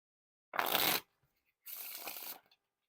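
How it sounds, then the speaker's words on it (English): Two quick riffle shuffles of Red Bee Metalluxe casino-quality playing cards, each a loud, close, half-second to one-second burst of fluttering card edges, separated by a brief quiet gap. "other than the fact that I'm messing up, the Wiffle Shuffles and Bridge Shuffles"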